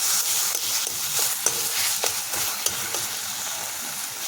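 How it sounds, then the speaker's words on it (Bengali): Taro leaves (kochu shak) are stirred in a pan over a steady hiss of frying. Sharp scraping clicks of the spatula repeat roughly every half second, close and moderately loud. "এখন এটাকে আমি ভালো করে নেড়ে চেড়ে বানিয়ে দেবো।"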